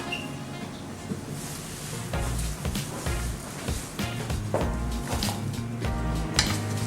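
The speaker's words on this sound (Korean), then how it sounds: "야채를 그냥 솥에다 붓겠습니다" Chopped vegetables tipped into a pot of just-boiled soy sauce brine for soy pickles, a series of clattering thuds and splashy rattles as the pieces drop in, moderately loud and close.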